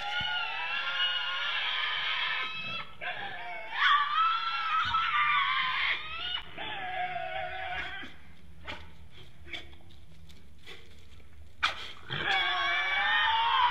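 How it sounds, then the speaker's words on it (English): Tasmanian devils screaming and fighting, harsh high-pitched shrieks and wails in long bursts broken by short snarls and thumps, loud and close. "this is when they scream and fight, and here's just a little video to illustrate just how they behave"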